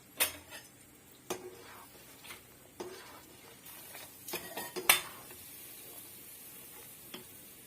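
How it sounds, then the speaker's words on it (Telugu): Urad dal vadiyalu frying in hot oil in a pan: a soft, quiet sizzle punctuated by scattered sharp clinks and scrapes of a utensil against the pan. "ఈ మినప వడియాలు అని చెప్పాను కదా, ఇవి నూనెలో వేయించుకోవాలి"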